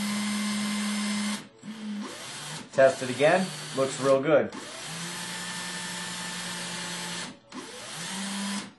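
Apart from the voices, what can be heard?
drill spinning a bit into a fishing float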